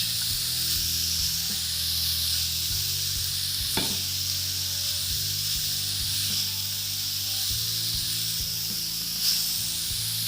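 Spring roll vegetables sizzle and hiss steadily in a hot pan while they are stir-fried, with soft scraping and stirring noises throughout and no talking.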